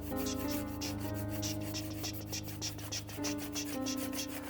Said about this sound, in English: I'm just dusting this dry old crumbly brush right across that